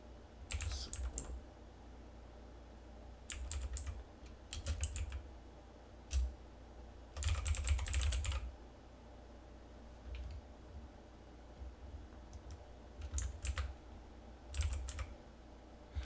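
Computer keyboard typing while setting up a forex trading indicator, heard as short bursts of quick clicking keystrokes separated by pauses, moderately close and fairly quiet with no talking.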